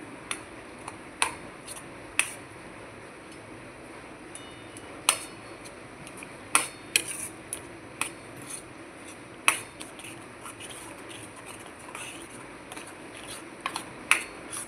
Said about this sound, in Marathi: तेल सुटेपर्यंत मी ह्याला परतून घेते खरपूस.